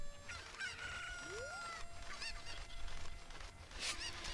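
Chickens in the video game Zelda Ocarina of Time squawk and crow in short, shrill game calls, with a rising electronic sweep and other clucks scattered around them.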